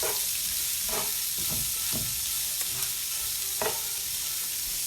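Cubed onion fries in bacon fat in a skillet, a constant close sizzle broken by several soft stirring scrapes and knocks, no voices.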